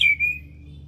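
A white-rumped shama (murai batu) gives a single clear, close whistled note that slides gently downward and fades within a second against a low hum.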